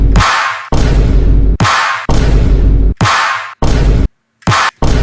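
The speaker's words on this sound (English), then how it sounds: "So yeah, just basic snare from me." A basic snare drum sample from a drum sample pack, played as a string of very loud, punchy, noisy hits with long bright tails, each cutting off abruptly, with brief silent gaps near the end.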